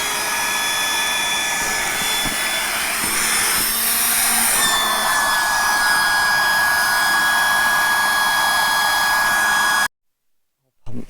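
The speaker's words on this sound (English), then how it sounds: "I've got a battery powered electric pump" A battery-powered electric pump inflates a blow-up air bed at a wild camp on a moor, giving a loud, steady, close whirring drone that shifts slightly in pitch and then abruptly cuts out.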